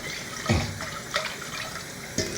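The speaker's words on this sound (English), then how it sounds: "I'm gonna use the same rice bowl and catch a bit of water, rinse down the rice in it" Tap water runs into a rice bowl in a home kitchen, a steady close splashing stream with a few brief louder gushes as the bowl fills.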